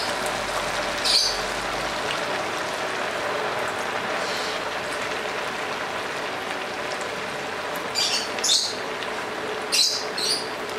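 Tuna otak-otak fries in hot oil with a steady, dense sizzle and crackle that fills the whole stretch, with a few sharper pops and spits, close and fairly loud, and no talking.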